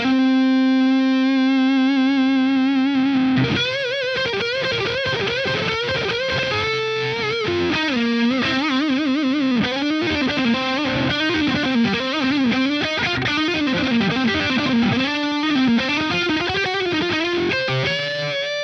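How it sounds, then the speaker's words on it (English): A Diezel Einstein guitar amp pushed to very high gain roars with a heavily distorted tone, opening on one held chord, then a fast run of saturated riffs and bends, loud and continuous with no talking. "Kind of sounds like a heavily boosted Marshall there"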